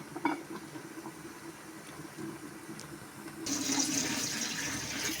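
Water runs and splashes steadily, growing louder and fuller partway through as eggs are rinsed under a flowing tap.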